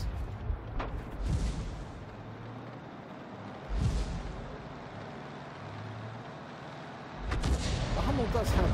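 Hummel self-propelled artillery gun firing in a video game, with booming shots at the start, middle and end over a low engine rumble, and a voice speaking alongside.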